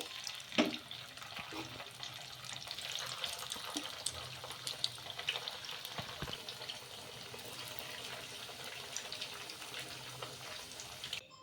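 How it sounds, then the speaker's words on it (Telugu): Sago and peanut vadas frying in oil, a soft, low continuous sizzle with scattered pops, occasional utensil scrapes and clinks as the fritters are stirred and turned. "ఇంకా ఎన్నైతే వడలు ఉన్నాయో అన్నీ కూడా ఇలాగే ఫ్రై చేసేసుకోవాలి"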